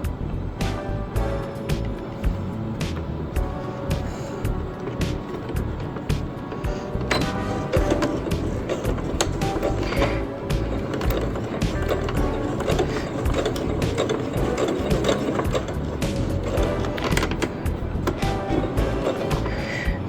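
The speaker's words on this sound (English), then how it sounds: "So needle down, and we're going to back stitch." Sewing machine back stitching an apron seam, a close continuous mechanical whir and rapid needle clatter running steadily for a long stretch, no voices.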